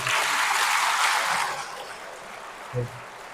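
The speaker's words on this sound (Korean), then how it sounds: "박수 한번 쳐주세요, 이분들." A church congregation at a Catholic parish gathering claps together in a short burst of dense applause that fades within about a second and a half, leaving soft room noise and a brief murmur.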